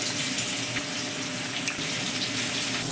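Water pours steadily as a continuous splashing stream, added to ground turmeric, coriander and cumin powder to make a spice paste, close and moderately loud throughout.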